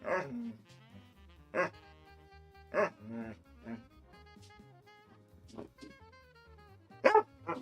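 A pet dog barks in short bursts, asking to be let outside, with several sharp yips spaced unevenly over a few seconds and steady tonal background music running underneath.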